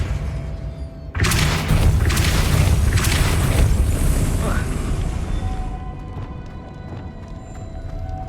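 A Depulso force spell cast in Hogwarts Legacy lands as a loud, sudden boom with a rumbling burst that sustains for several seconds, then slowly fades into a quieter ambient tail.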